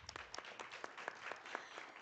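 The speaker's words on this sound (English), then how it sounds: "please give them a round of applause" An audience at a community empowerment event in Gauteng claps together, a brief steady patter of many hands heard alone at a moderate distance.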